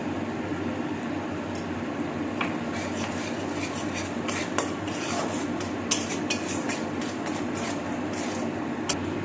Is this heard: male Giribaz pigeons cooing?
no